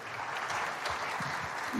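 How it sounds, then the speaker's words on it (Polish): Audience applause at a FAME MMA event announcement, a short burst of dense clapping under two seconds, fairly loud and steady throughout. "Także wielkie brawa."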